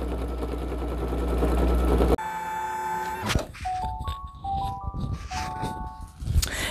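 A single-needle embroidery machine with a magnetic snap hoop stitches a hoodie with a loud, steady mechanical hum. It stops with a thunk, then plays a series of electronic beeping tones, with no speech.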